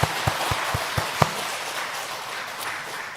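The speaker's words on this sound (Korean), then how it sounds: "여러분 자신을 위해서 우리 하나님 앞에 영광의 박수 돌립니다." A church congregation claps in a brief rhythmic beat of about five sharp claps, then settles into softer, scattered applause that fades into room noise.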